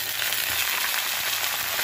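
Potato pieces and onion stalks are added to already fried onion in a pan, giving a steady, loud, close frying sizzle with no voices.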